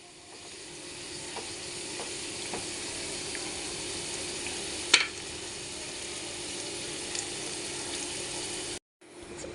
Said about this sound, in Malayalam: ഇപ്പം നമ്മൾ വെളുത്തുള്ളി ഉണ്ടല്ലോ നല്ലവണ്ണം വഴന്ന് വന്നിട്ടുണ്ട്